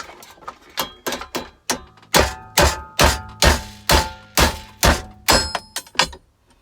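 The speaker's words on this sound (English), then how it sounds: "And my plan, knock them out." Rivet nuts are hammered out of a commercial hot beverage machine: a series of about fifteen sharp metallic knocks, close and loud, falling in a fairly steady rhythm with brief pauses.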